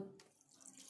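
Water is poured from a cup into beef karahi in a pressure cooker, a brief, faint splashing pour lasting under a second with no talk.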